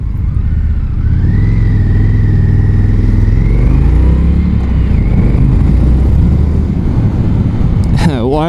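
A 2020 Indian FTR 1200 motorcycle on the move gives off a loud, close engine drone that climbs and falls in pitch as the throttle changes, with continuous road and wind rush underneath.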